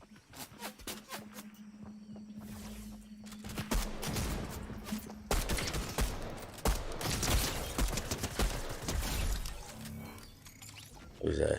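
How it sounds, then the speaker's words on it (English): Repeated gunshots fired nearby, a rapid, uneven volley of sharp cracks that grows denser and louder partway through, with scattered bursts continuing to the end and a low steady hum beneath the opening. "Who's that shooting?"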